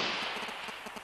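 Chaotic small-arms gunfire at the front line, a rapid irregular string of cracking shots heard at some distance, with no voices.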